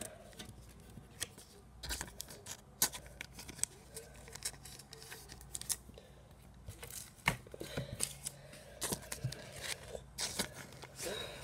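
Prizm baseball cards are slipped one by one into plastic sleeves, making soft crinkly rustles and light taps in irregular bursts, close by and fairly quiet.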